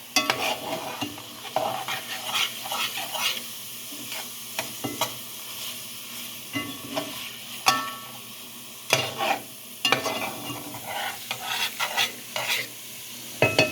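Food fries with a steady sizzle in a pan while a utensil stirs it, scraping and clinking against the metal in irregular bursts, close by with no talking.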